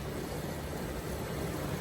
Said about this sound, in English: the only noise you hear is actually for the water jets.